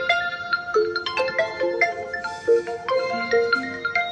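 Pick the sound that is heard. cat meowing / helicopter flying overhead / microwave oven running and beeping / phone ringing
phone ringing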